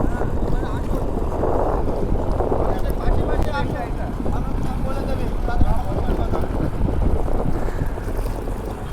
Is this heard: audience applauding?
no